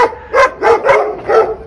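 A pack of dogs barking in Turkey, four or five loud, close barks in an uneven rhythm, each short and sharp with brief pauses between them, and no talking.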